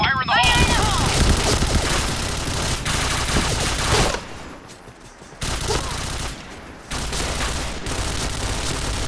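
Machine gun fire rattles in rapid, loud bursts, heaviest in the first few seconds, then comes in shorter spurts amid game noise, with a voice speaking at times.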